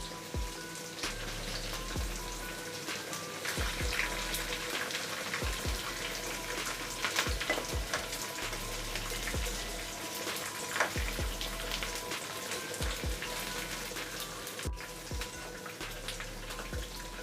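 Chicken 65 frying in hot oil with curry leaves added, a steady dense crackle and sizzle that runs throughout at moderate level with small bursts of popping and no talking.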